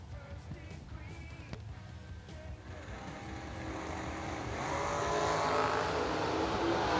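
At a drag strip, an American Prepared dragster and a Chevrolet S10 launch, engines building from a distant rumble into a loud, rising roar over several seconds; no talk is heard.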